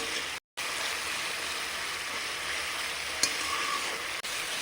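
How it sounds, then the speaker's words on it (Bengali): Spice paste fries in a pan for a cabbage and potato curry, giving a loud, steady hiss with one brief pause and a couple of sharp spatula clicks as it is stirred. "যখন এই মশলাটা কষে আমার এরকম নাড়াতে খুব ভালো লাগে,"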